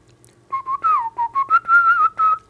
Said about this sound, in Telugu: ఆ భావాన్ని విజిల్లో పలికించాలి